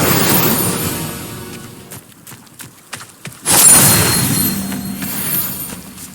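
A fiery Incendio spell blast in Hogwarts Legacy combat, a sudden loud burst partway through that rushes on with a sustained roar after a scatter of thumps and whooshes.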